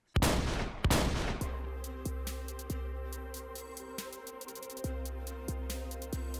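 A double-barreled shotgun fires in a video game, with two loud, close blasts in quick succession, then a dense run of clicks and clacks with low thuds, like shells ejecting and reloading.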